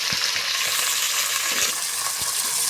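Onions sautéing in hot oil for paneer biryani, a steady dense sizzle throughout with a few soft spoon scrapes and taps against the pan, close and continuous, no voices.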